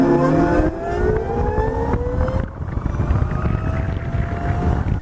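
A loud motorcycle engine runs steadily while riding, its pitch climbing through the gears, then settling into a sustained roar.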